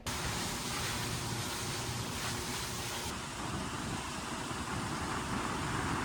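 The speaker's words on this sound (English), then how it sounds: "as the wind and waves continued to pick up" Wind and waves roll across open water in the Gulf, a loud, constant wash of surf and gusting wind buffeting the microphone, with no voices.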